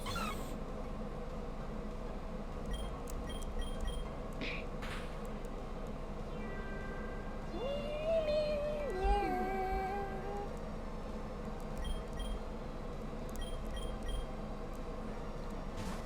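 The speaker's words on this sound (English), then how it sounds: "I always think that sound effect for sing sounds like a cat." A short warbling, rising-and-falling electronic tone like a cat's meow, the Pokémon Sing move sound effect, plays over quiet background hum, with faint chime-like blips scattered around it.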